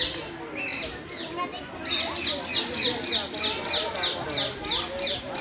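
Small birds in a park chirp in a quick, regular run of bright repeated calls, fairly close, over a soft murmur of background activity.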